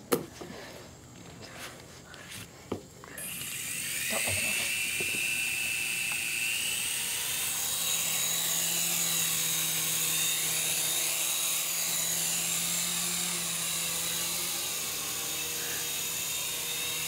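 A steady helicopter rotor-and-engine drone with a high whine from the video game Webkinz fills the clip after a few seconds of quieter clicks and thumps, loud and continuous throughout.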